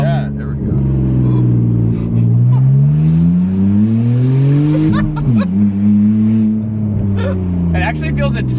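A BMW Z4 with a straight-piped exhaust revs hard and close, its loud engine note climbing and dipping through several sweeps and briefly dropping before rising again, with brief speech over it.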